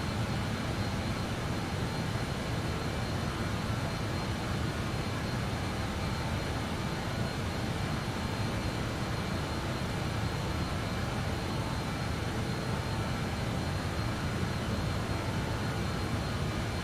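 Steady cabin roar of a BAE 146 jet climbing in Microsoft Flight Simulator 2020, a constant broadband rushing hum with no change in level, continuous throughout and alone.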